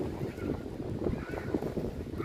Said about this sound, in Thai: ลมแรงนะครับทุกคน ลมแรงสวยงามมาก